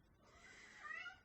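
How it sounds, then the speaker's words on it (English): A cat meows faintly indoors, one drawn-out, rising call that swells slightly toward the end over quiet room tone. "You can hear the cat, I'm sure."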